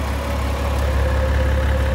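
A 2000 Porsche Boxster with a 2.7 engine and five-speed manual idles smoothly, a steady even hum with a faint mid-pitched whine and no rattles, heard alone.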